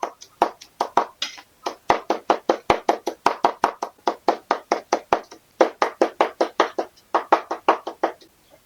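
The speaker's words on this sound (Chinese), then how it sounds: "再切小米椒，要这么多，给它切碎。" A knife chops bird's eye chili peppers on a cutting board in steady, rapid strokes, several dozen crisp, close thuds in a near-constant rhythm with only brief pauses, and no talking.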